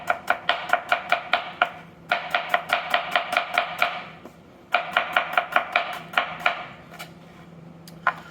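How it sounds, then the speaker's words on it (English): A knife chops food on a cutting board in fast, steady bursts of sharp close knocks with short pauses between runs, while beef, kimchi and brussels sprouts are prepared for a stir fry; no talking. "chopping on the cutting board."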